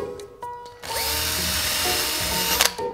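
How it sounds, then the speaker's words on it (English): A power drill starts up after a quiet moment and runs steadily, whining loudly as it bores into wood for a couple of seconds. "make sure that the drill bit is straight"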